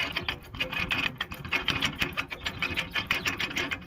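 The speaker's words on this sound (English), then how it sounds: "Screw that in." A threaded shaft is screwed into a metal flagpole fitting from a flagpole refurbishment kit, making a rapid, rhythmic clicking and grinding of metal threads, close and fairly quiet, with no talking.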